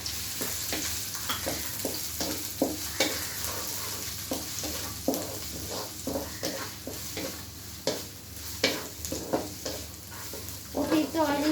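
Onions and chilies fry in a little oil in a pan for fried rice: a constant crackling sizzle punctuated by regular scraping stirs and knocks of the spatula, close and without talk.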